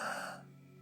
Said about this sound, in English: the ocean breath, also called the Darth Vader breath.